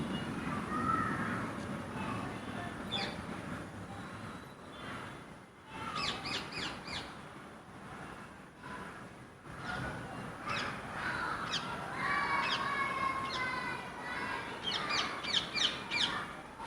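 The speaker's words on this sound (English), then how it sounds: "now that we've actually got some birds chatting" Outdoor birdsong with crows cawing in short repeated bursts and other birds chirping, moderately distant over a steady background hum, no talking.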